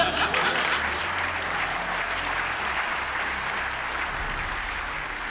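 An audience at a film awards ceremony applauds, dense sustained clapping that fills the hall at a steady level for several seconds.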